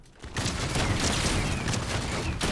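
Continuous dense burst of gunfire from a Fortnite match, loud and sustained throughout with sharp cracks over a booming low end, no clear talk over it.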